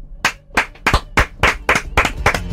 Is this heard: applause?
yes